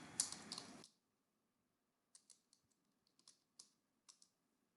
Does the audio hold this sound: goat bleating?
no